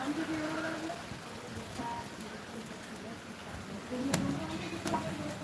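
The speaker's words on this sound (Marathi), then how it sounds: "पाऊस चालू आहे" Rain falls steadily over a village, a soft, even patter with scattered sharper drops and faint background voice sounds.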